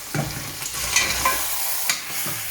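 Boiled lamb meat is tossed into a pot of fried onions. A bright sizzle and hiss sound up close, broken by scraping and stirring knocks from a spoon against the pot.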